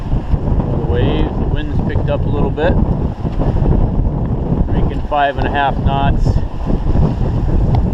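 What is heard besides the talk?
wind and waves buffeting a sailboat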